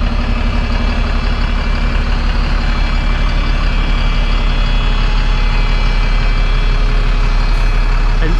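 A Wrightbus Pulsar Gemini 2 double-deck bus on a VDL SB300 chassis runs its Cummins ISBE 6.7-litre diesel engine through a Voith gearbox, a loud, steady, close engine drone with deep rumble throughout.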